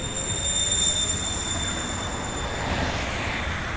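A 36-metre Astra Imperio Metropolitan tram, number 3809, rolls along its rails with a loud, steady rumble and a thin high whine of wheels and motors, heard from inside throughout with no voices.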